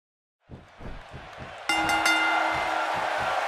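Arena crowd noise from the WWE 2K16 wrestling video game, a California audience on its feet, starting as a low murmur and then jumping to a loud, steady roar of cheering that holds to the end.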